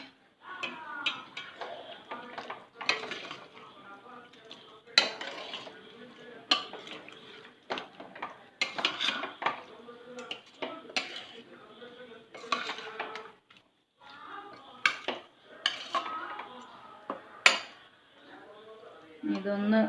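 A spoon stirs biryani with coriander leaves and ghee in a pot, giving repeated metallic scrapes and clinks against the pot in irregular bursts with short pauses, close and fairly quiet.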